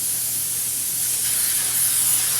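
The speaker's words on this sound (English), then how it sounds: "And just a quick light spray in there, and that is it." A quick, light burst of cooking spray coats a mini muffin tin, a steady close hiss lasting a couple of seconds with no talking.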